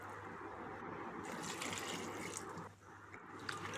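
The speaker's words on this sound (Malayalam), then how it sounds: "ഇനി അത് വേവാൻ ആവശ്യത്തിന് വെള്ളം കൂടെ ഒഴിച്ചു കൊടുക്കാം." Water poured into a cooking pot of chopped tender jackfruit with turmeric and salt for a Kerala thoran, a steady close trickle and splash running without pause and with no voices.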